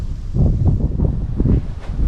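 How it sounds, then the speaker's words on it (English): Gusty wind on a cold day beside the Murderkill River at Killens Pond, heard as loud, low buffeting rumbles against the microphone in uneven surges. "Fairly windy."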